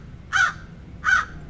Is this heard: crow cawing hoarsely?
yes